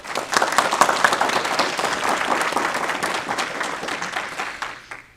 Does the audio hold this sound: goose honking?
no